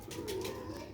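A Sialkoti black-faced pigeon coos in a soft, low, continuous murmur, faint and brief, with no voices.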